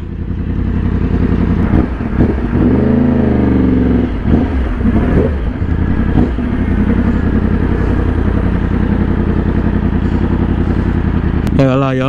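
Harley-Davidson Road Glide motorcycle rides along with a loud, steady engine drone that rises and falls in pitch as it revs through gears, close and continuous, with people talking over it.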